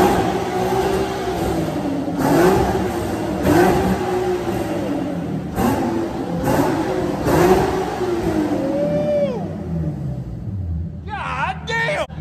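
A tuned Nissan Z engine revs hard again and again, loud and close, with rising and falling whines between bursts and people talking over it.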